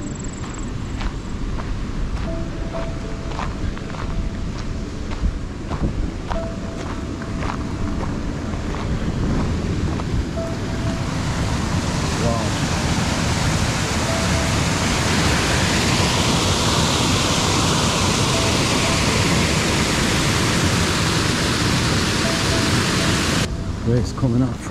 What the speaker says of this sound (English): This water that is flowing is just the waste product.